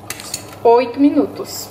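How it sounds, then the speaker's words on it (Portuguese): A fork stirs pasta in a pot of water, giving a short ringing metallic scrape against the pot with a few light clinks around it, close and fairly loud. "Vou pegar um garfo, dou uma mexidinha"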